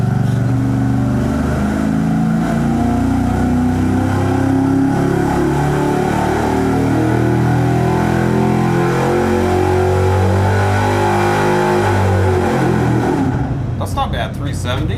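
An engine runs hard on a dyno during a carburetor versus EFI test, a loud, sustained roar that holds steady and then winds down near the end.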